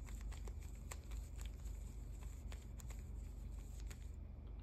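Plastic Rubik's cube faces clicking and rattling as they are turned, a quiet, continuous run of small rapid clacks over a steady background hum, with no talk.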